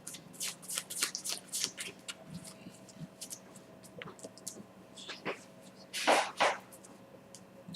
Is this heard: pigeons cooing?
no